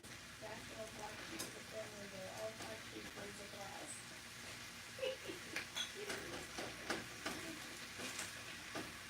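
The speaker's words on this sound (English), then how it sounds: "You can kind of hear it sizzling already." Chicken and peppers fry in a pan with a soft, steady sizzle and crackle, plus a few sharper pops and stirring clatters toward the end; a voice talks faintly at times.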